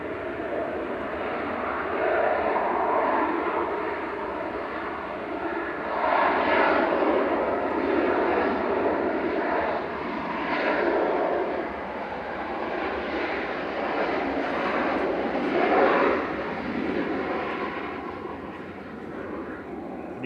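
Ryanair jet aircraft at Manchester Airport, a steady loud engine roar that swells and fades over about twenty seconds, heard from a distance outdoors.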